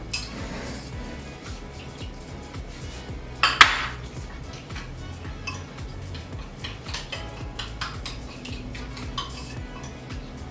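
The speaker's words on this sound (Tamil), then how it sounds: "இதை கொஞ்சம் நல்லா மிக்ஸ் பண்ணி வச்சுக்கலாம்" Quick, rhythmic clinking as an egg is whisked with salt in a bowl for chicken cutlets, steady and close, with one louder clatter partway through.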